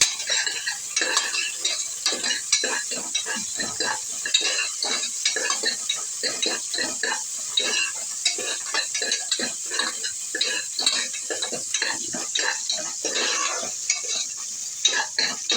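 Mustard seeds, curry leaves and garlic spit and crackle in hot oil in a pan, with a dense run of sharp pops and a steady sizzle lasting throughout, scraped now and then by a stirring spoon, with no talking.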